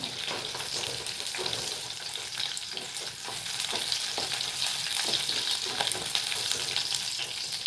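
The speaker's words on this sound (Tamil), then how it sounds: "பூண்டு சேர்த்து நல்லா வதக்குங்க." Garlic and dried red chillies sauté in a pan with a loud, dense, continuous sizzle and the rough scrape of stirring throughout.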